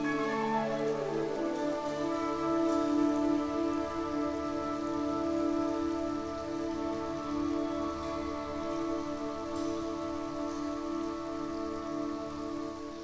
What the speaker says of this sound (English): Clear rain fell.